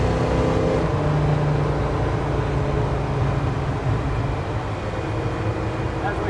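A 1951 Chevrolet 3100 pickup cruising at 70 mph, a steady, loud, continuous low engine and road drone with wind noise that holds unbroken from start to finish.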